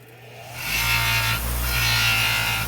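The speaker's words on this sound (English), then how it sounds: "now I have a buffing wheel with a Scotch-Brite wheel on it" A Scotch-Brite wheel on a buffing wheel spins up and grinds against a vehicle axle, a loud, close, continuous whirring abrasion after a brief quiet start.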